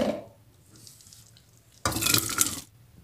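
Cooked pigeon peas (andu) being drained, a sudden burst of pouring, splashing water for under a second after a quiet stretch, fairly close and loud, then back to near silence.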